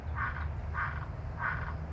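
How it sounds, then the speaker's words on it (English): Three short, squeaky frog croaks repeat at an even pace, close and clear, over a constant low background hum. "Now that's a frog."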